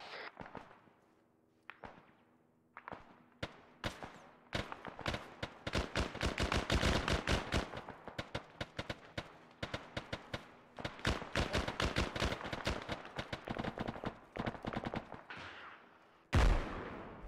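Mortar and gunfire in the military video game Arma 3, a long barrage of sharp cracks and booms in dense bursts, some loud and close, others fainter, ending in one heavy blast.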